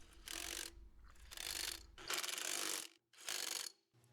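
Wheel nuts being tightened on the dual wheels of a BCS two-wheel tractor, with four separate bursts of clicking ratchet wrench action separated by brief pauses, close and fairly loud.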